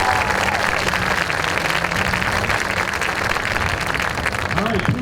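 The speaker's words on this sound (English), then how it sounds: "a round of applause for those seniors" Sustained audience applause for seniors at a marching band community night, dense steady clapping throughout with a voice briefly audible near the end.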